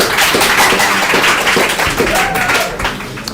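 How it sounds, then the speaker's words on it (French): A crowd at a school quiz competition claps in a loud, dense burst of applause that carries steadily throughout, with a faint voice underneath. "applaudissez-les"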